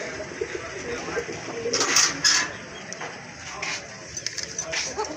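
Koka pigeons at a pigeon seller's collection, with a male cooing in short bursts amid a busy, noisy background, a voice speaking nearby.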